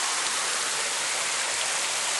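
A massive backyard waterfall spilling beside a creek near a koi pond, giving a steady, dense rush of falling water with no pauses.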